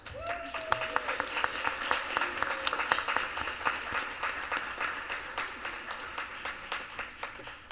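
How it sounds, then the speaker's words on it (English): Audience applause at a school board business meeting, a steady wash of many hands clapping at moderate distance for several seconds, with some murmured voices mixed in. "So let's give her another round of applause."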